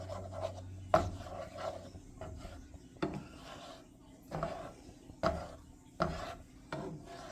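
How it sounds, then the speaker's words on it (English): A spatula scrapes and taps in a pan while an egg is scrambled on a home stove, faint irregular knocks and rubbing strokes spaced a second or so apart, close by and quiet. "Going to scramble an egg right there"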